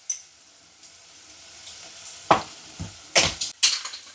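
Garlic and smoked paprika sizzle softly in a pan, broken by a few sharp clinks and scrapes of a utensil stirring against the metal, close and without talk.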